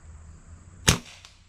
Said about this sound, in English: Let's find out how well this moderates a fast moving pellet here.